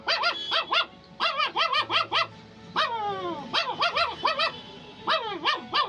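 A man imitates an angry, irritated puppy, voicing rapid bursts of high yipping barks and a drawn-out whining yelp, close and clear, in quick irregular clusters.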